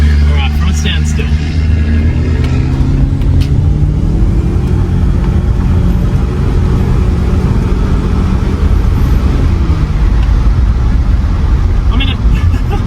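2003 Audi A4 B6 pulling away slowly from a standstill, a loud, steady low engine drone with rising tonal harmonics as it gathers speed, while a voice talks over it.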